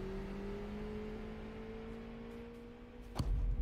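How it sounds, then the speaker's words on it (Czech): A car engine in a video game hums as a faint, steady drone, holding an even pitch for a few seconds before a brief thump near the end. "Já slyším auto."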